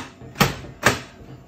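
Printer door on a slot machine being shut, two sharp mechanical clacks about half a second apart, close and fairly loud against a quiet room hum.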